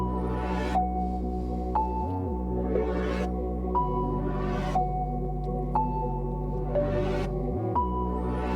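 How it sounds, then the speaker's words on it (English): Melodic layers of a beat play alone with no drums: sustained synth tones and a low bass bed under repeating bright plucked notes that recur roughly every second and a half, steady and fairly loud with no voices. "I'm going to play all the melodic tones without any drums,"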